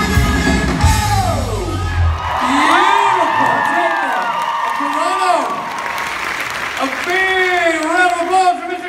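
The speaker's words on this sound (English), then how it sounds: "applause for Mr. Justin Eccles and Jared Pettit." At a Supernatural fan convention in Toronto, a large indoor audience claps, cheers and whoops loudly and continuously, with shouting voices and speech mixed into the crowd noise.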